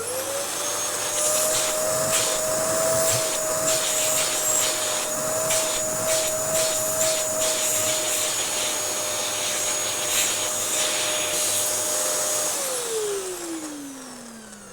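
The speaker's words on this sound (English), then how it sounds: "It is a pretty good vacuum" A Dyson DC07 vacuum cleaner runs loud and steady with rhythmic rubbing strokes across the floor, then its motor is switched off and winds down with a falling whine at the end.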